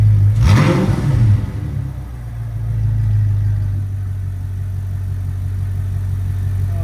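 An Audi R8 with an Armytrix exhaust, valves closed, revs once sharply and then settles into a steady, deep idle rumble, loud and close with no talking.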